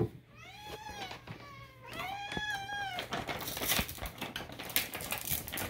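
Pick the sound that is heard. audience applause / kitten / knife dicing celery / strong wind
kitten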